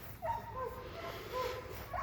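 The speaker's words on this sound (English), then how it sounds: "I'm sorry about the dogs." Dogs yip and whimper faintly in the distance somewhere in the Great Smoky Mountains, thin high cries rising and falling under a steady outdoor hiss.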